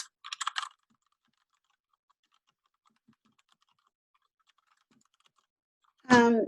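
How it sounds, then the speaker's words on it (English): Typing on a computer keyboard while entering directions into a web page builder: a short burst of quick clicking keystrokes at the start, then near silence, then a brief spoken voice at the end. "I just have to type in here."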